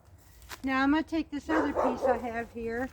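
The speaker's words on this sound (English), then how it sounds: "Sorry about the dog, y'all." A dog barks and yips repeatedly in short bursts close by during cold-weather homestead preparation, mixed with someone talking over the noise.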